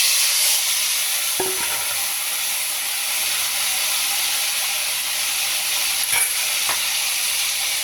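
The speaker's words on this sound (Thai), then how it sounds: "น้ำมัน ร้อน เราก็เอาดอกสลิดลงค่ะ" Telosma flowers dropped into hot oil in a home kitchen for a Thai fried-egg dish, giving a steady close sizzle and hiss throughout with a couple of brief utensil clicks.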